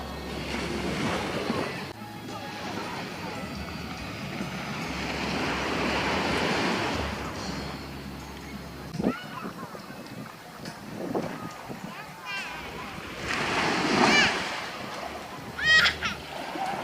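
Surf washing onto a beach where children have jumped into the sea to play, waves swelling and breaking in broad surges amid wind noise, with people talking and occasional splashes and shouts.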